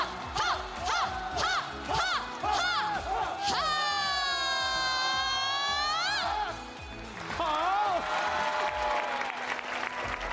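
An audience applauds at the final performance of a televised youth singing competition. The clapping sits beneath prominent sustained vocal tones and voices, and the sound stays fairly full throughout.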